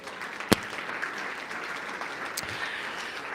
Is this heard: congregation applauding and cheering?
yes